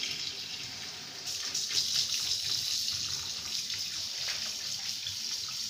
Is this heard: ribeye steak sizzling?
no